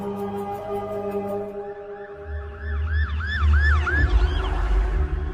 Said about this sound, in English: The sound triggered an alarm that they had not managed to disable.